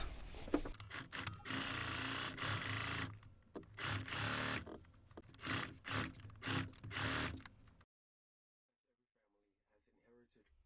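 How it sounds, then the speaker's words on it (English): Sewing machine fitted with a walking foot stitching through bulky fabric, a steady whirring run broken into short rhythmic bursts and pauses, fairly close, then stopping into near silence. "It's very bulky, so thank goodness for my new walking foot."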